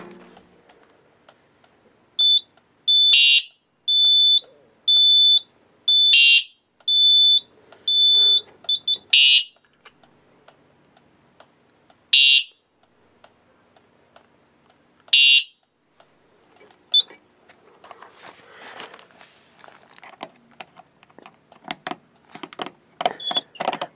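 Fire alarm system under test, sounding in zone-coded pulses: a run of loud, close, shrill electronic tones in repeated bursts, then a few isolated bursts with quiet clicks and handling noise between them.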